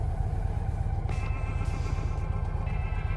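A heavy 750 lb motorcycle's engine runs steadily close by, a continuous low rumbling idle with no breaks and no talk.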